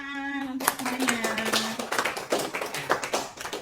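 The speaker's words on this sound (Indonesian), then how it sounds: "Oke, tepuk tangan untuk semuanya." Classroom full of students clapping together, a dense run of sharp, uneven hand claps close by, beginning after a brief sustained voice and continuing for a few seconds.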